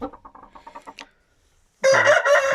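A village hen clucks in a quick series of short clucks, then after a brief pause a loud, drawn-out crow bursts out close by.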